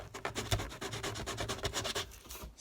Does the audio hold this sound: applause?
no